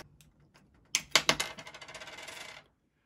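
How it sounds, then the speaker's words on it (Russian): An old CR2032 coin battery is pried out of a car smart key, giving a sharp plastic click followed by a quick series of rattling metallic taps, close and fairly loud, then silence. "Вытаскиваем старый элемент питания."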